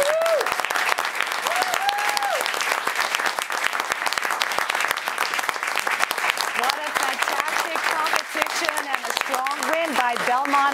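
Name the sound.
audience applause for finalist teams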